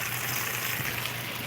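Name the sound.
water draining through a bell siphon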